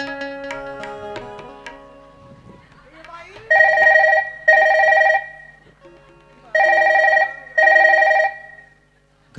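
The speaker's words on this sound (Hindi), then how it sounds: "घंटी तो जाते" A telephone ringtone rings in four loud bursts in two pairs, each burst about a second long, repeating without being answered after some earlier music-like tones.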